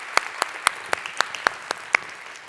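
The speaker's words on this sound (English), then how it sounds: "So thank you, Ruth. She's behind the stage, so we'll just give her a round of applause." A few people at an analytics conference keynote give a sparse round of applause for a speaker coach, with about eight separate claps spaced evenly and fairly faint in a quiet hall.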